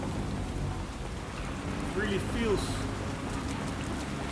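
Rain falls over London in the video game Watch Dogs Legion, a steady patter filling the background while a person talks briefly over it.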